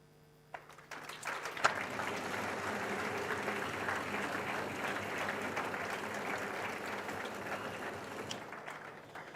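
Applause rises from the audience for a University of Cape Town student receiving a mathematics award, swelling quickly after a few early claps into a sustained, even roar of many hands that holds steady, then thins slightly near the end.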